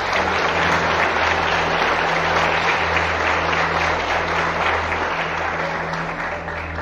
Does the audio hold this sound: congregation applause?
yes